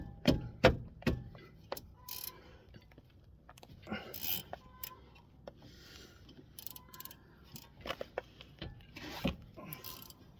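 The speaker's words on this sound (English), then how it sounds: "We'll go ahead and just get these busted loose. I got a 9/16 ratchet wrench." A 9/16 ratchet wrench loosening 9/16 bolts while removing a brake caliper, making bursts of close clicking and metallic clunks with pauses between them and faint talk in places.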